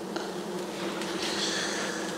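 Dense, steady buzzing of a great many honeybees from an opened hive box super, loud and continuous throughout with no talk.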